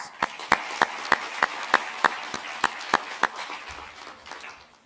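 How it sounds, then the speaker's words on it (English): A small audience claps for the top women-owned SMEs at a business finals event. About a dozen evenly spaced sharp claps stand out over faint background murmur before fading. "So let's give them a round of applause."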